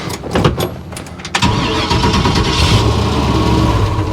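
A truck engine, from a 1971 Chevrolet Nova SS project, cranks with a few sharp starter clicks, then catches and settles into a loud, steady idle close by.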